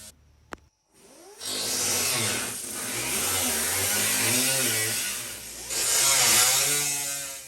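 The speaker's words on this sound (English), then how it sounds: "made a series of holes going around the pattern of the intake hole, and then used a cutoff wheel" A cutoff wheel slices through a Toyota 4Runner fender along a line of drilled holes for a snorkel intake, whining loudly and continuously with pitch wavering under load after a brief click and pause at the start.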